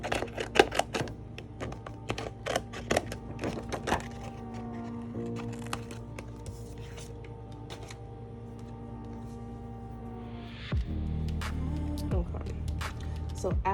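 Scissors cutting out a laminated paper doll, a quick series of sharp close snips and clicks, then slower crinkling and rustling of the plastic sheet.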